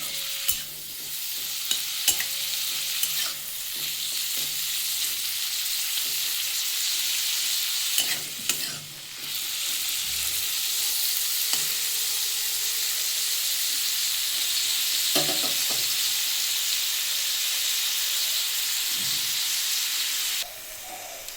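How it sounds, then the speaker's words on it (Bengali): Prawns fry in a pan of hot oil for a papaya and potato curry, giving a long, steady bright sizzle and hiss broken by a few knocks and stirring scrapes. "চিংড়ি মাছটা আমি ভেজে নিচ্ছি"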